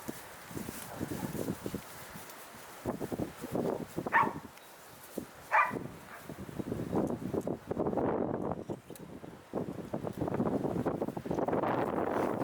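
A search dog on a training exercise barks a few times in short separate bursts to signal a found victim, set against outdoor wind noise and rustling footsteps.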